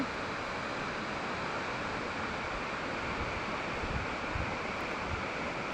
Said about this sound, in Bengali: অনেক উঁচু থেকে জলটা পড়ছে